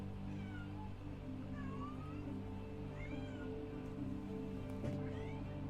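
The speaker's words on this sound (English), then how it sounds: "Why are we meowing?" A cat meows repeatedly in short rising calls over a steady loud hum of background music, close and clear.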